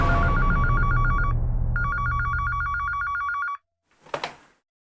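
Telephone rings with a loud electronic trilling bell in two bursts over a low background hum, then cuts off and is followed by a short handset clatter.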